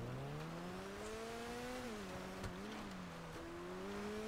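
Car drifting on a snowy back street in GTA 5 Online, its engine droning steadily with pitch rising and dipping as the throttle shifts, a continuous close roar with no talk over it.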